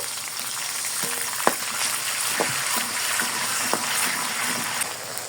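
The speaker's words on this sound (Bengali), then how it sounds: "বাকি পেঁয়াজগুলোর মধ্যে দিয়ে দিব কিছুটা গ্রেট করা আদা। কিছুক্ষণ কষিয়ে নিব।" Onions and grated ginger sautéing in a pan for halim, giving a steady close sizzle and frying hiss with a few soft scraping stirs, no talk.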